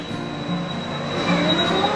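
Runaway Mine Train roller coaster at Cultus Lake Adventure Park, its rail cars rolling with a steady rumble and faint wheel squeal along the track, heard close and continuous with no talking.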